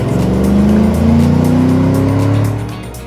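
A Land Rover Defender 110 with a 6.2-liter GM V8 runs loud and close, its engine note rising steadily as it accelerates before easing off at the end.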